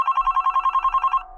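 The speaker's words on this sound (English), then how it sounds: "the phone started ringing." An electronic telephone ring trills rapidly and loud for just over a second before cutting off, with no voices over it.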